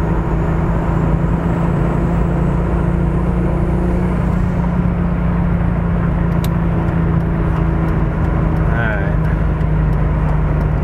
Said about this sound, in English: You get the turbo whine while you're cruising